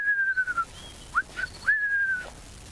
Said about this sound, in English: We might be able to just about hear the robins calling.